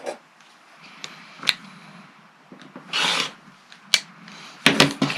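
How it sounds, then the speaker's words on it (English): Rotary cutter trimming excess quilt fabric along a ruler, heard as short scraping and rasping strokes of varying length, close and fairly quiet, with a longer rough pass in the middle. "you're going to take your ruler and your rotary cutter and you're going to leave a 1/4 inch on this side and just trim away that excess."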